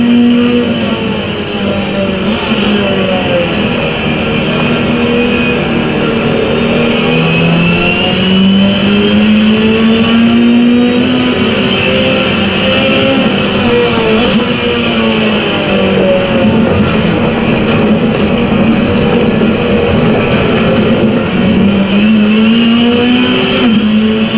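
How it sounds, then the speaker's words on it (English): Race car engine droning continuously in a racing game, loud and close, with pitch rising and falling through gear changes and acceleration over a long stretch of driving. "Absolutely love driving this car around"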